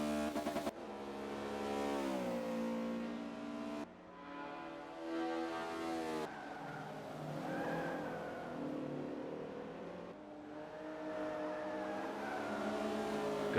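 Honda Civic race cars scream past in close Forza 5 racing, engines revving high with gear shifts and shifting pitch as the cars jostle, loud and continuous with no talk.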